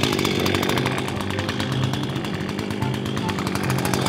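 An Echo Kioritz 671 67cc Japanese chainsaw with a paper air filter runs steadily and loudly at close range, its buzzing engine drone continuous with no talk.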